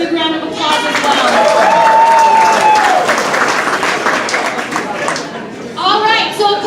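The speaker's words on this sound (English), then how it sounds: "please give them a big round of applause as well" A crowd at an evening progressive awards event in Nevada bursts into loud, sustained applause that swells and then tapers off, with a voice speaking over the clapping.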